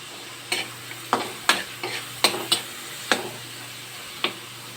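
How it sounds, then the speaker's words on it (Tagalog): Tomatoes cooking in a pan, sizzling steadily under a series of sharp spatula scrapes and taps as they are crushed, about eight distinct strokes at an uneven pace, close and without talk. "dinudurog ko yung kamatis para maluto agad"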